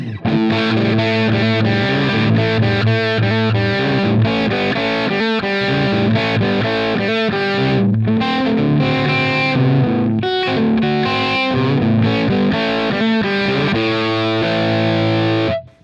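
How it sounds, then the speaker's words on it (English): Heavily distorted electric guitar through a Line 6 Helix amp modeler, Brit Trem Jump amp and 4x12 Greenback cab, plays chugging riffs and sustained chords, loud and continuous with brief pauses, ending abruptly. "Brit Trem Jump with those particular settings and 412 greenback 25"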